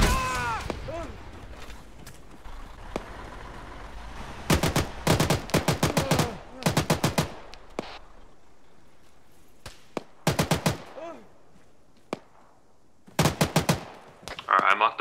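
Gunfire in the video game ArmA 3 crackles in sharp bursts of automatic fire with single shots between, loud and close, while players talk over it.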